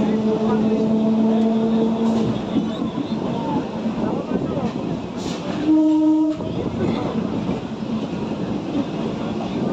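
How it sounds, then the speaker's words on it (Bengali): Passenger train running slowly on the approach to Krishnanagar, a steady rumble of wheels and carriage noise throughout, with a brief horn-like tone partway through and faint background voices. "কৃষ্ণনগরে ঢোকার আগের মুহূর্তের জন্য ট্রেনটা একটু স্লোতে চলছে।"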